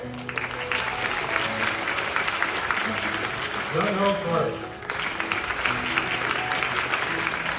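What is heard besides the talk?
audience applauding graduating students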